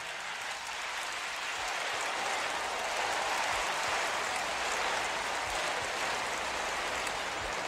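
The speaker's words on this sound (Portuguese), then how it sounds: "Dê uma salva de palmas para esses professores," A congregation gives a soft, distant wash of applause for Christian teachers during a church sermon, steady and even throughout with no voices heard.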